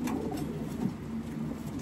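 Soft, low racing pigeon coos repeat steadily against a busy background hum, with no voices present.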